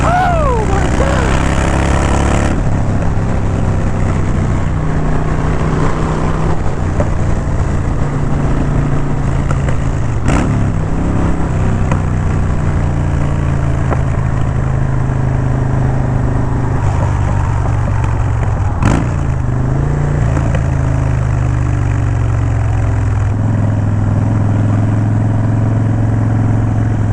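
Harley-Davidson Dyna motorcycle engine, a loud continuous low rumble that holds steady and shifts pitch a few times, no talking.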